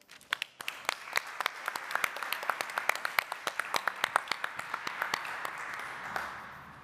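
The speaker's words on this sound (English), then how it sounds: "can I have a huge round of applause, please, for Jane Hotchkiss?" A crowd claps in a dense, steady round of applause that builds quickly and then gradually thins out toward the end.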